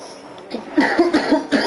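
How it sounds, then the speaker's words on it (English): Several harsh coughs in a quick burst, close and fairly loud, with no other sounds around them. "sorry about all my coughing throughout"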